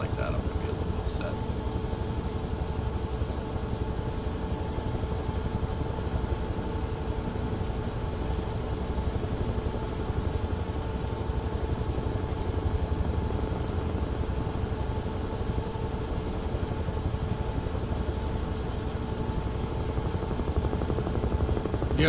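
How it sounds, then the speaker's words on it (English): A helicopter flying in Microsoft Flight Simulator, a steady droning rotor and engine hum holding evenly throughout, with speech over the continuous tone. "You had a really tough time flying the helicopters in Flight Sim?"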